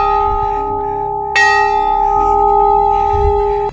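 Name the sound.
bell ringing at Bayana fort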